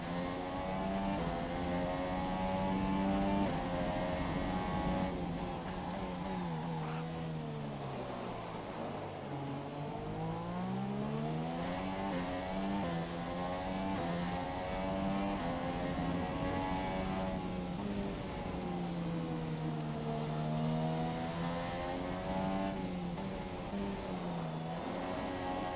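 Race car engine from the F1 2017 video game, droning steadily with harmonic pitch sweeps as it revs and drifts on wet track tires, loud and continuous throughout with no talk.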